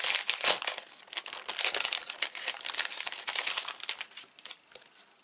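Sticker sheets from a happy mail package are handled close up, with continuous crisp crinkling and rustling of paper and plastic that rises and falls in bursts throughout, no talking.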